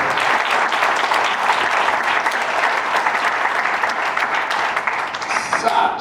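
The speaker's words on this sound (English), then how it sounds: "Can we just give a big round of applause?" An audience at a love-life panel breaks into sustained applause, a dense wash of clapping that stays loud for several seconds before thinning slightly at the end.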